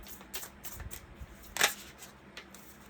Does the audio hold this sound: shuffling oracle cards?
yes